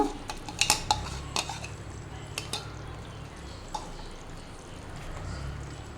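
A spoon stirs cashew paste into Mughlai chicken curry in a pan, giving a few clinking scrapes against the metal early on, then softer occasional taps over a quiet background.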